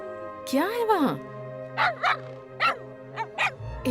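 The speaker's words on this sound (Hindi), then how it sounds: "ऐसे देखकर क्यों भौंक रहे हो तुम?" A dog barks and yips in short bursts, several close sharp calls with whining tones, repeated at an uneven rhythm.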